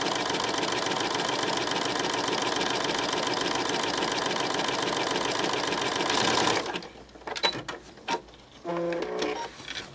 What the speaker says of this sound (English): stitch these two pieces of fabric, or the fabric and the lace, together